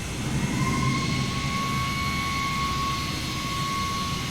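Steady, loud jet engine roar from an MD-80 airliner in a flight simulator game, a broad continuous drone with thin high whining tones running through it and no talking.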